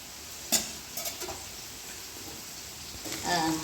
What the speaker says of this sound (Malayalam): മത്തി ഇങ്ങനെ കിടന്ന് അടുപ്പേ കിടന്ന് നന്നായിട്ട് മൂക്കുന്നുണ്ട്